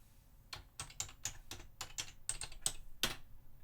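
Short bursts of typing on a computer keyboard while designing a torn paper effect card in Microsoft Word, about nine distinct keystrokes in an uneven rhythm, close and fairly quiet, with no talking.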